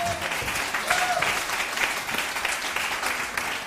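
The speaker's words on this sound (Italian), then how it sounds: "Un applauso alla prossima chiesa, alla prossima generazione" A church congregation at an Easter service claps in sustained, even applause with a dense wash of many hands and faint voices underneath.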